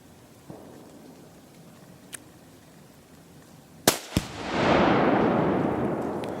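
A rifle shot sets off Tannerite packed under a 500-pound log outdoors: a sharp crack, a second blast a moment later, then a long, loud rumbling roar that slowly fades.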